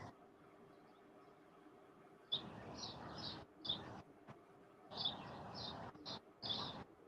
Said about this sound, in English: I hear the birds out there.